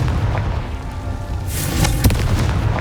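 A Confringo fire spell bursts in Hogwarts Legacy, a deep rumbling boom with a bright crackling flare about halfway through, set over steady low game ambience.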